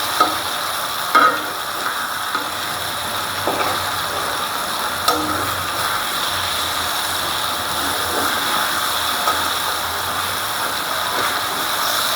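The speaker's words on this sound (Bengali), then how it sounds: "এখন আমি দিয়ে দেবো চিংড়ি মাছটা আর ভাজা পেস্টে দিয়ে আর একটু কষাই নেব।" Shrimp with fried peanut paste, turmeric and chili stir-fry in a pan: a continuous close sizzle broken by occasional spatula clicks and scrapes against the metal.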